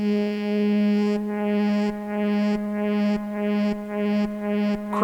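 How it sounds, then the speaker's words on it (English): Two sawtooth synthesizer oscillators, not detuned, with filter modulation creating a whipping phase-cancellation effect: a sustained buzzy tone that sweeps in a regular pulsing rhythm about every half second, loud and alone. "this really started to emphasize this like whipping phase cancellation between the two oscillators"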